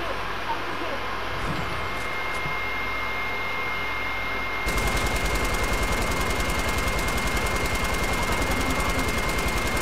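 Rapid automatic gunfire in the video game Fortnite bursts in about halfway through and rattles on without a break, loud and dense, above a steady game background.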